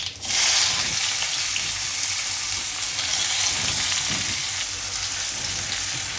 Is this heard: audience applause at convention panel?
no